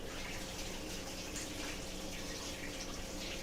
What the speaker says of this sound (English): Just give my hand a quick rinse